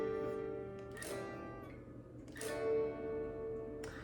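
Freshly tuned guitar strings struck in a few separate strums, each ringing out with sustained bright tones and then fading, fairly quiet and close.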